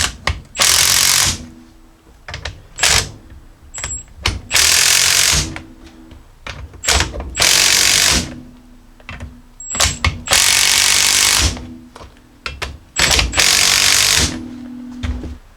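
Coil spring compressors being tightened on a Jeep Grand Cherokee strut with a power tool, loud repeated bursts of rattling impact-style whirring, each lasting about one to two seconds, separated by short pauses, close and with no talking.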